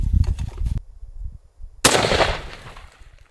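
A Cheytac M200 Intervention rifle fires outdoors: one heavy report is already ringing out at the start, then after a quiet gap a second sharp, loud crack booms and rolls away into a long echo.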